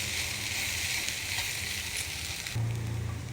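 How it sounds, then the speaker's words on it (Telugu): Puffed rice being stirred into tomato puree for puffed rice upma, a steady close hiss of frying with soft stirring scrapes throughout, turning slightly heavier near the end. "ఇప్పుడు టమాటా ప్యూరి కలుపుకున్న ప్యాలాలు ఇందులో వేసేయాలి సరే మంచిగా మిక్స్ చేయాలి అన్నీ కలిసేట్టుగా"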